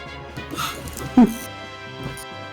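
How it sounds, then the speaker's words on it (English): A dog whimpers and yips in short, strained bursts, with one sharper cry standing out over background music and voices. "The dog is acting up, and I want to make sure he's getting attention."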